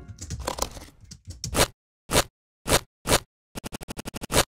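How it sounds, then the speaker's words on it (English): Tree scrape sound effect sample: a dense rough scraping burst at first, then separated harsh crunchy scrapes, ending in a rapid run of short rasping strokes, loud and close with silent gaps between. "What's this tree scrape?"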